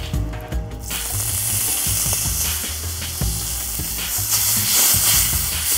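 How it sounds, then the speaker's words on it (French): Raspberries sauté fast in very hot butter in a pan, a bright continuous sizzle with intermittent clicks and scraping from stirring, rising slightly toward the end, with no voices. "c'est une poêlée de petits fruits au vin rouge. J'utilise des framboises et puis ça va être une cuisson super rapide"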